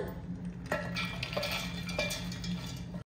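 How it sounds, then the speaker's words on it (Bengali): Drained lentils tipped into a Borosil mixer grinder jar, giving a few clinks and knocks against the jar over a soft rustle, fairly close and with no talk. "প্রথমে আমি দিয়ে দিচ্ছি এই যে জল ঝরিয়ে রাখা ডাল"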